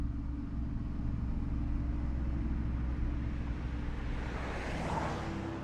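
A car engine in Condemned: Criminal Origins drones with a steady low rumble while the vehicle is moving, continuous and fairly loud, with a faint rising whoosh near the end.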